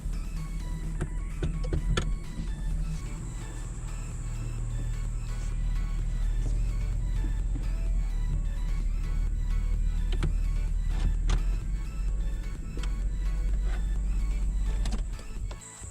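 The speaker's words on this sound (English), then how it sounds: "I'm gonna go ahead and back this truck up to the shed" A truck backs up toward a shed, its engine a low steady rumble close by, with faint mechanical clicks and whirs over it and no talking.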